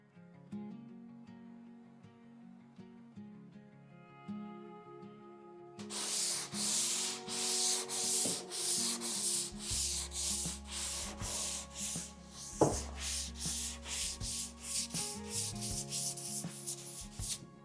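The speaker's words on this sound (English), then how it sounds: "then we'll switch to our 120 grit and finish off going with the grain with it as well" Sanding a board of cheap store lumber with a 120 grit pad along the grain, a steady rhythmic scrubbing that starts after a quiet opening and continues up close in repeated strokes.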